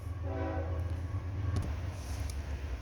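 A train passes with a steady low rumble and rolling noise, and a horn blast sounds near the start. The train is heard alone with no talk.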